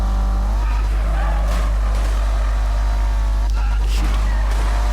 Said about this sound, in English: This thing wants to drift a bit, but since it's four-wheel drive, it's kind of weird drifting